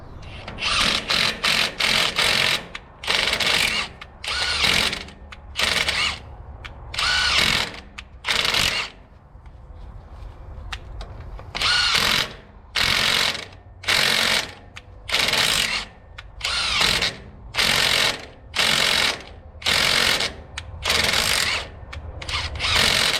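A power tool unscrews a stud in repeated whirring bursts, each about a second long and separated by short pauses, close and steady for nearly twenty rounds.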